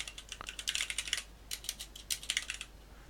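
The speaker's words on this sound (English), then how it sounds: "notice as I'm typing" Rapid typing on a computer keyboard during a software coding session: quick clusters of light, crisp key clicks with brief pauses between bursts, close and fairly quiet, with no voices.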